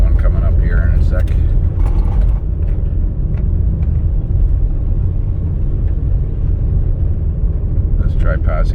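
A 2004 Toyota Sienna minivan rolls over frost heaves in the road, giving a loud, steady low rumble of road and engine noise with a few thumps and rattles from the bumps.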